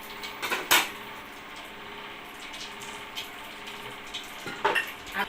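Spice masala for egg curry hits hot oil in a pan, a steady sizzling hiss broken by sharp clinks and clatters of a utensil against the pan, close by and without talk.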